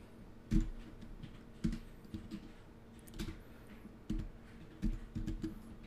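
Computer keyboard typing code, irregular clusters of sharp keystrokes with brief gaps, close up and moderately loud with no voice over it.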